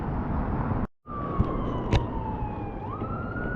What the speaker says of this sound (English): It's the sound of the police.